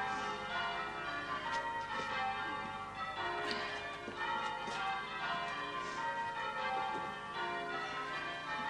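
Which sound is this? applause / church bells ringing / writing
church bells ringing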